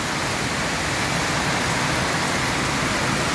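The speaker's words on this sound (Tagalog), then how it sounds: "Lakas po na ulan." Heavy rain pounds a roof in a dense, steady roar with no pauses and no voices.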